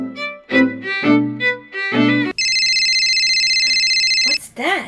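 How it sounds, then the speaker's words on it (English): Talk is followed by a phone that starts ringing with a steady, bright electronic ringtone lasting about two seconds, loud and close, and then a voice comes in again. "Is that my phone?"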